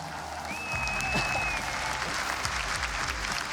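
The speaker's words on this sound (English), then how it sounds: "Jankos, listen to that crowd." A large indoor esports crowd at IEM Katowice cheers and applauds steadily, a dense wash of clapping and shouting with a whistle rising briefly above it.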